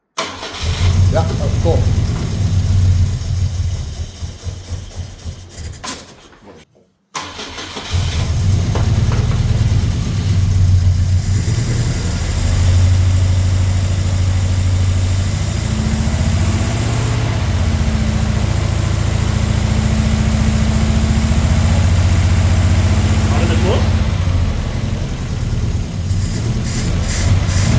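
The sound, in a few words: old 1973 Volvo 140 engine starting and idling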